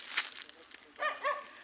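A dog in the hills barks twice in quick succession near the end, moderately close, after a stretch of quieter rustling and footsteps.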